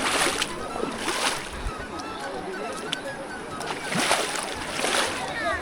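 Cold stream water at Utmachhara in Sylhet, near the Meghalaya border, rushes and splashes continuously nearby, with louder bursts of spray, while someone talks over it.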